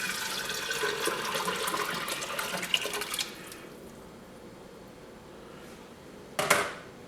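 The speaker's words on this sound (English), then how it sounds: "So now we're going to add in the 8 cups of beef stock." Beef stock poured into a soup pan for French onion soup, a steady liquid splash for about three seconds that then drops to quiet, ending with a brief louder clatter near the end.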